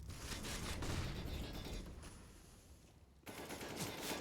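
Gunfire in CS:GO on the Train map rattles in rapid bursts, quiet and somewhat distant, under dense continuous game noise.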